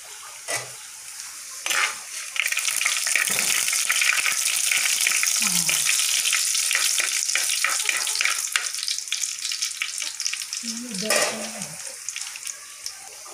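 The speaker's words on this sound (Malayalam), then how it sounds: "ഇവിടെ നമ്മൾ ചീനച്ചട്ടിയിൽ ഉള്ളിയും വെളുത്തുള്ളിയും കറിവേപ്പിലയും കൂടിയിട്ട് വെച്ചിട്ടുണ്ട്" Onion, garlic and curry leaves fry in a cheenachatti pan with a steady, close sizzle that runs throughout, broken by a few brief utensil clinks and scrapes.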